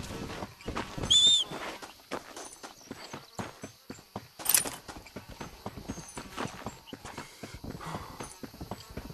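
Horse hooves in Red Dead Redemption during riding, a quick rhythmic clip-clop of galloping footfalls, fairly close and continuous, with brief louder bursts of other game sounds.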